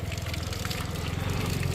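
Spring water runs steadily from a village spring spout in a hill village during winter, a continuous trickling and gurgling flow heard close up, with no talking over it.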